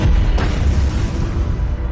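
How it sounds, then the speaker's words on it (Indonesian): A gas leak explosion in a Korean film booms loud and low, a sustained rumbling blast that fills the whole short stretch with no talk over it. "terjadi sebuah ledakan akibat kebocoran gas"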